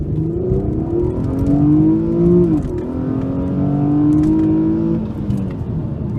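A 2007 Infiniti G35 in sport mode accelerates hard, its engine note climbing steadily, dipping at a gear change around midway, then rising again, loud and close from inside the car with no talk.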